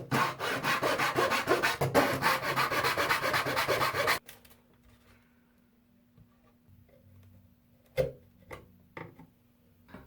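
A notch is hand-cut into a wooden brace of an antique bowl-back mandolin: about four seconds of rapid, close rasping saw strokes, then near silence broken by a few light knocks and taps.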